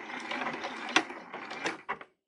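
A sewing machine runs in reverse for a few stitches to secure a napkin corner, a close, fast mechanical whir broken by a couple of clunks before it stops.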